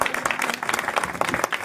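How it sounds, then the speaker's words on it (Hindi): A crowd of women clapping at a Jyoti Kalash Rath Yatra gathering in a Muzaffarpur-area village, dense, steady applause running the whole moment at close range with a faint voice beneath. "जोरदार ताली बजाइए"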